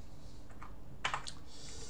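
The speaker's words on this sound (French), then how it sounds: "je tape sa première lettre et après ça j'utilise les touches haut et bas pour sélectionner ce que je veux" A few keys are pressed on a computer keyboard while configuring the Archboot installer, a handful of soft separate clicks over a steady faint background hiss.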